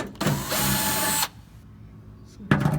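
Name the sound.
power drill removing bolts under Lotus Elise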